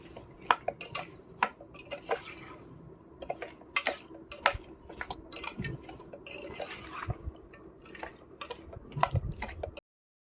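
Oil being mixed into raw mango pickle in a pot, with a spoon clinking and scraping against the vessel in irregular bursts and soft wet stirring between them, close and fairly quiet.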